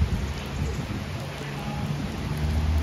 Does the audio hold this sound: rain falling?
yes